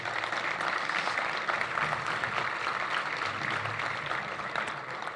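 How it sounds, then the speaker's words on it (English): Applause from a conference audience for the contestants of an onstage dating-show skit, a steady dense wash of clapping holding fairly even for several seconds, moderately loud and heard alone without talk. "please give them a small round of applause for being our contestants"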